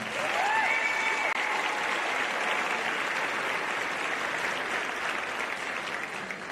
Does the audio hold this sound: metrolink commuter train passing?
no